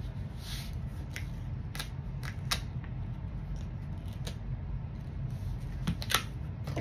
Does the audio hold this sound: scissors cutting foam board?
yes